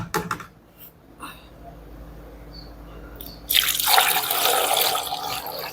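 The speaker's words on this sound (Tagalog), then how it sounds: "Busan na natin ng tubig ng maramihan." Lots of water pours from a tap or container over sliced tomatoes in a pot, first scattered drips and splashes, then a loud, continuous rushing pour close by.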